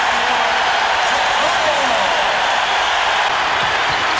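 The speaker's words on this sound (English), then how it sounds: "Listen to this crowd." Arena crowd roaring steadily through a Bulls versus Knicks NBA playoff game, a dense, loud, unbroken wash of cheering with no clear breaks.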